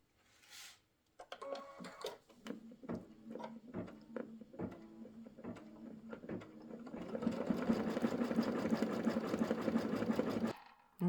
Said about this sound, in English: ready to satin stitch